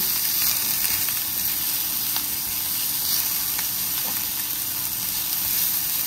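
Capsicum stir-frying in a pan for fried rice makes a steady, close hiss and sizzle with faint scraping clicks throughout, with no voices.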